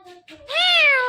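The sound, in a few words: parrot imitating a cat's meow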